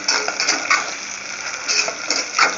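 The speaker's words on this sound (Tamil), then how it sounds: "இந்த வெண்டைக்காய் கத்திரிக்காயெல்லாம் பாருங்கள், இது வந்து நல்ல எண்ணெயில் பொரிஞ்சிருச்சு" Okra and brinjal frying in oil for brinjal morkuzhambu, a close, bright sizzle with scraping, stirring clinks from the pan coming in short uneven bursts.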